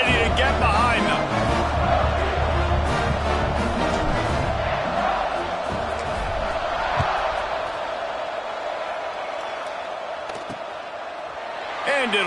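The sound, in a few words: football stadium crowd cheering before kickoff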